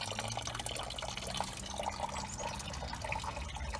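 Coolant drips and trickles from a car's disconnected top radiator hose, a steady run of close, wet patters and splashes with no one talking.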